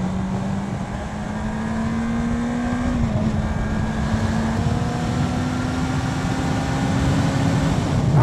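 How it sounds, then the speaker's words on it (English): A 2008 Honda CBR600RR's exhaust drones steadily while riding, its pitch climbing slowly as the bike pulls, loud and close with a wash of wind noise and no talking. "The exhaust note is nice as well. It's louder than my exhaust."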